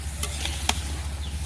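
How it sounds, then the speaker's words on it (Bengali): Vegetables stir-fried with dried chillies in a pan, with a few quick scrapes of the spatula over a steady low sizzle and hum, close and brief. "শুকনো লঙ্কা, তো সবজিটা ভালো করে কষিয়ে নেই"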